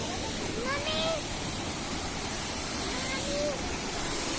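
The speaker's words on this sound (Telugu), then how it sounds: "అది వాటర్ ఫాల్ ఇలా వచ్చి ఇంకా వెళ్తూనే ఉంది." A waterfall at Watkins Glen State Park in New York pours in a steady broadband roar that fills the whole clip, with a few faint high chirps above it.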